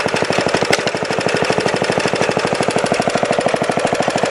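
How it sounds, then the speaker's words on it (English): A 1953 Sears Craftsman reel power mower's small engine idles steadily close by, a rapid, even chugging pulse that keeps the same pace throughout with no talking. "The engine sits there and idles."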